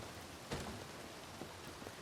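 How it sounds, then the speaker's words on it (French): Soft, steady rain falls in the open-world video game Red Dead Redemption 2, a faint, even hiss with a few slightly louder drop patters. "Mon petit Kiki est en train de prendre la pluie."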